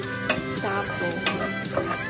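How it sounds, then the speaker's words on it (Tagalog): Ginger sautéing in a hot pan gives off a steady close sizzle, broken by a few sharp scraping stirs over about two seconds, with no talking. "Igisa na natin ang ating luya."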